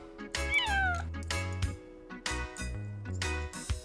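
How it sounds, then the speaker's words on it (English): A cat meowing in a film, with a few distinct, close meows, one rising-and-falling wail, over a soft low hum. "the cat just comes and goes as it pleases throughout the houses"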